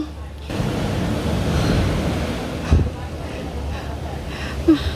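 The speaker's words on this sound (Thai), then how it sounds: "พายุ" Storm-driven waves and gusting wind at Railay, Krabi, roar as a steady, loud wash with rumbling wind buffeting the microphone, plus a couple of brief thumps near the end.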